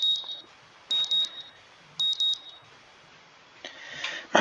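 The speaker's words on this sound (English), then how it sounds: "My morning alarm goes off" A morning alarm clock in the Katawa Shoujo visual novel rings in two short bursts of bright, high-pitched double beeps about a second apart over quiet background hiss, followed by a rising rustle.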